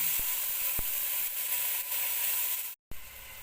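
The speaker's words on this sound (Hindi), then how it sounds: "अब मैंने इसको अच्छी तरह से भूनती हूँ" A large chopped tomato frying for beef pulao, a steady close hiss and sizzle in hot oil with a couple of light ladle taps, then a brief cut to silence before the sizzling resumes.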